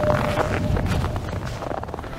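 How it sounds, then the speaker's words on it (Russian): Strong wind buffets the microphone in a constant broadband roar with low rumbling gusts, steady and loud throughout, no voices, on a cold, snowy tank training ground outdoors in Magadan. "сильнючий ветер"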